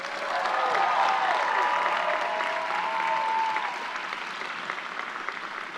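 Graduates at a university commencement applauding their parents and families: a broad, sustained round of clapping from a large crowd that slowly tapers off, with a faint voice briefly audible.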